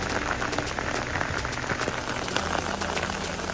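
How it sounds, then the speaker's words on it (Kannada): Heavy rain pours during a bus trip toward the Kodachadri trek as a dense, steady hiss of drops striking surfaces nearby. The sound is loud and continuous, with faint engine noise underneath. "ಇವಾಗ ಹೆವಿ ಅಂದ್ರೆ ಹೆವಿ ಮಳೆ ಹೊಡಿತೈತೆ"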